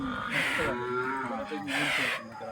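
A calf moos twice, a racing-bred calf from the bullock-cart racing scene in Maharashtra, each long nasal call close and loud with harmonics, separated by a short pause.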